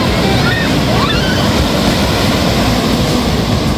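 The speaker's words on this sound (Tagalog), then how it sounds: "papakita ko lang sa inyo yung mga alon na susuungin namin ngayong araw para matuto mag-surf" Steady broadband surf from ocean waves at the Baler, Aurora surfing spot, a continuous loud wash of breaking water with no distinct pauses, heard alone.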